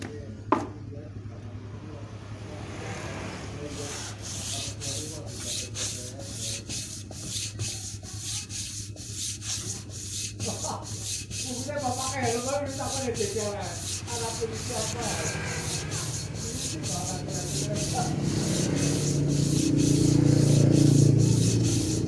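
Steady rhythmic rasping of sandpaper scrubbed back and forth over an engine cylinder head, close up and continuous, with occasional faint voices in the background.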